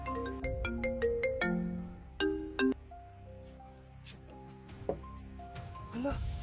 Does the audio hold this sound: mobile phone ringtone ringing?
yes